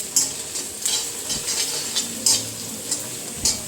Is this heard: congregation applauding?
no